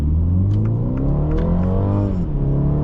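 A 2023 MINI Cooper Countryman S accelerates at roughly half throttle, its engine droning steadily and rising in pitch through the gears, loud and close from inside the cabin with no talking.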